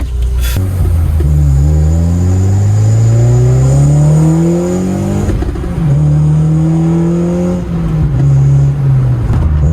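A 9th generation Honda Civic Si with a Skunk2 catless downpipe revs hard and close, its engine note climbing repeatedly through several loud pulls and dropping back between them.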